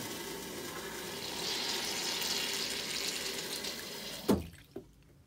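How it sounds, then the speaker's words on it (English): RV toilet fitted with a Blue Streak dispenser flushes, giving a steady faint rush of running water that swells, then ends with a couple of sharp clunks and drips as it refills. "we'll show you what it's like when the unit flushes"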